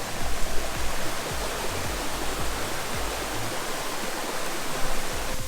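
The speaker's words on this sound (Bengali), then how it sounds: "আর ঝর্ণাটা এই বরাবর বয়ে গেছে।" Waterfall in Belpahari pouring and rushing in a steady, dense broadband roar, close and continuous throughout with no voices.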